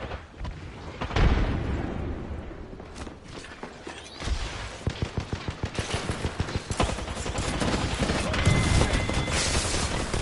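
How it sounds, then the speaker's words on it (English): Knuckle cluster explosions in the video game Apex Legends, a burst of rapid, loud, crackling detonations packed closely together midway, then a continuing roar of game noise. "Launching me knuckle cluster. Stand back, knuckle clusters firing."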